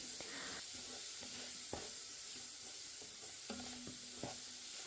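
Yellow and green capsicum sauté in a pan for chicken fried rice, giving a steady close sizzle and hiss broken by periodic scrapes and taps of a spatula stirring the vegetables, with no voices.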